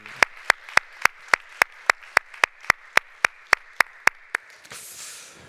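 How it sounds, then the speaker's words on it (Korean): Churchgoers at a Sunday worship service clap in unison, about seventeen sharp evenly spaced claps in a steady rhythm, loud and close, ending with a brief soft rustle. "우리 오늘을 주신 하나님께 이 날을 주신 그 열심을 우리 박수로 영광 올려 드리십시다"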